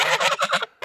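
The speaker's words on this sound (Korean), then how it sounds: "거위만 없으면 너네 농장은 조용하겠다면서요" Farm geese honk loudly and close by in a rapid burst of harsh nasal calls, followed by a short pause and one more honk.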